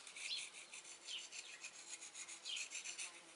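Rhythmic rasping strokes of a sharpening rod drawn across a blade edge, close and fairly quiet, repeating steadily with no talking.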